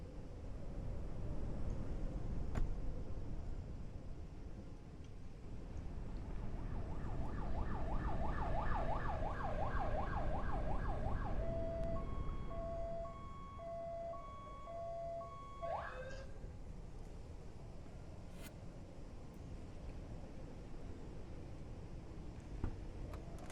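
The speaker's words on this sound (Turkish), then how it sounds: "Ambulans ekibi geldiğine göre." A video game ambulance arrives on a snowy road with its siren wailing in rising and falling cycles and then switching to a steady two-tone pattern, heard over a constant engine rumble with no talking.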